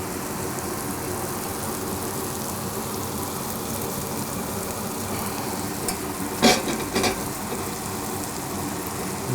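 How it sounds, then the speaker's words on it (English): Sauce strained into a hot pan beside venison steak, hissing in a steady broad sizzle as it reduces, with a brief louder burst of splashing or clatter near the end. "So in the meanwhile, we can strain our sauce into the pan"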